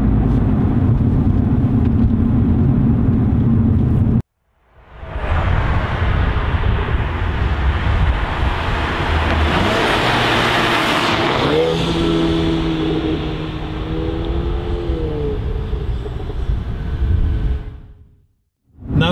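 Mercedes A250 driving and downshifting, loud engine roar and road noise with rising and falling revs, cut by a brief silence partway through and a short gap near the end; voices are heard over parts of it.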